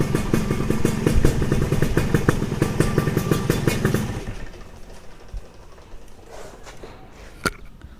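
A motorcycle engine idles nearby with a rapid, clattering putter for about four seconds, then shuts off, leaving faint background noise and a sharp click.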